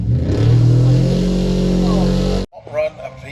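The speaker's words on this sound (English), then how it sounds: "Chris cannot catch this all-motor car." A front-wheel-drive all-motor doorslammer drag car at Santa Pod Raceway tears off the line and screams down the strip, loud and close with rising engine revs for over two seconds, then cuts off abruptly into quieter crowd and track noise.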